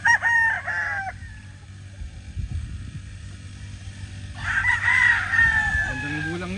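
Local banded roosters crowing nearby, two long drawn-out crows separated by a short gap, with faint background rustling and low hum.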